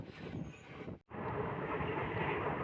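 Rumbling, rattling noise of a moving passenger train leaving Samalkot Junction, broken by a sudden brief drop near the start before the steady roar resumes.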